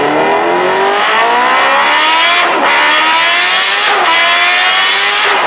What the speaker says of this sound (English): And if you're curious as to what that sounds like,